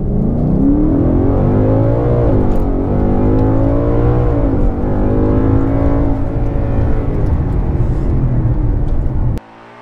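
A car launches hard in a 0-60 acceleration run, its engine note climbing loud and close through gear changes for nearly ten seconds before cutting off abruptly.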